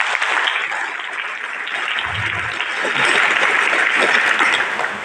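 An audience at a Brahma Kumaris yoga bhatti program claps together in a steady, even burst of applause lasting several seconds, filling the hall at a constant level.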